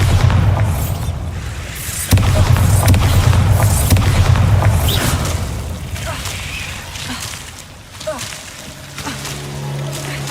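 Bombarda explosion spell goes off in Hogwarts Legacy inside a goblin mine, heavy booming blasts with rumbling debris over game ambience that fades and then returns with a low hum.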